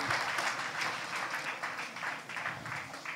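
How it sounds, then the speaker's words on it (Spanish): A church congregation claps in praise to the Lord, a dense, steady wash of many hands applauding continuously from start to finish at moderate level, with no talk over it. "Fuerte ese aplauso de alabanza al Señor."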